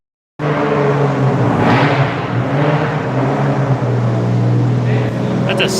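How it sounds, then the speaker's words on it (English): A 700 horsepower Toyota FRS with a 2JZ engine roars loud and close, a sustained rumbling drone with a strong low hum and shifting tone as it revs. "That's a 700 horsepower FRS powered by a 2JZ."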